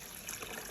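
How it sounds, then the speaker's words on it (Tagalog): Water pours over eggs in a container while they are prepared as salted eggs, a steady faint trickle running unbroken for a brief moment. "So ibubuhos na po namin dito yung tubig."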